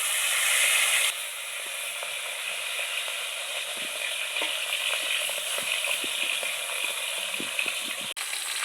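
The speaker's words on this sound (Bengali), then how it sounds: "এবার আমি মাছগুলোকে কড়া কড়া করে ভেজে নেব" Salted, turmeric-rubbed pond fish sizzle in hot oil as they crisp, a steady close hiss with small crackles and pops, broken by a brief clatter near the end, with no voices.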